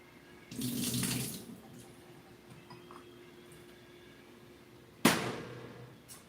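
Tap water runs over mountain yams being rinsed in a kitchen sink, a steady splashing gush that stops, then a second short burst of running water near the end, with no talking.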